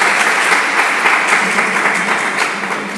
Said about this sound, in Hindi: बहुत बढ़िया, बहुत ही बढ़िया, ताली बजा दो।